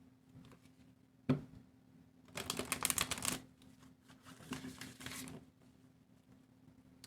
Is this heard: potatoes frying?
no